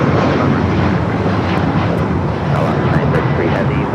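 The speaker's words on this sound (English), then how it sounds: "there is the beautiful Korean Air Queen about to make the right-hand turn" A Korean Air Boeing 747 taxis at Los Angeles airport with a loud, steady, broadband jet roar, accompanied by gusty wind noise.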